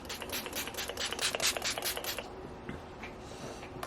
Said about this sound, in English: Just going to spray this.